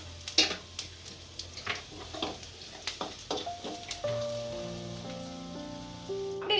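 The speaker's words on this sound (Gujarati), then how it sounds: "જીરું નાખીશું હિંગ નાખીશું અને ગરમ થવા દેશું" Cumin seeds and asafoetida crackle in hot oil for a spinach dish, a scatter of sharp pops and spits, then a soft, steady sizzle with a sustained tonal hum rising underneath.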